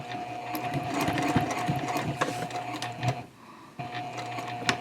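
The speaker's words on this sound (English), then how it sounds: "And then I just stitch one more time across that top line of stitching" A sewing machine runs in steady bursts while stitching across the top line of a tote bag, pausing briefly near the end before the motor whirs up again, close and alone.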